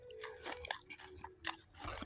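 Crunchy fried chicken being chewed up close, with several soft, irregular crunching bites spread across a short quiet stretch and no talking.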